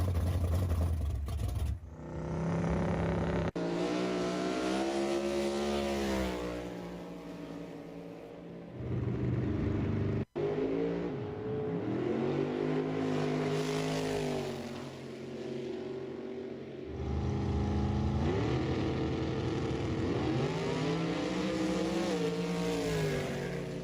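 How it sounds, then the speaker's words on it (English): A car engine revs hard and loudly in repeated climbing, wavering surges, dipping briefly between pulls and then winding up again over a sustained rumble, with no talking. "Yo, this car sounds crazy"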